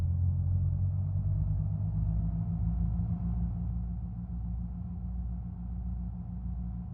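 Aircraft piston engine runs up to about 1700 RPM with mixture full rich in a flight simulator, a steady low droning rumble that holds nearly constant throughout, with no talk.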